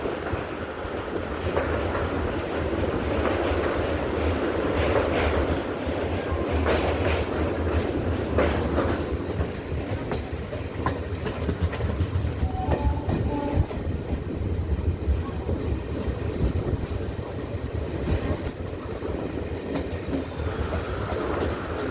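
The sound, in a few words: train running on tracks, Tenkasi–Kollam line near Punalur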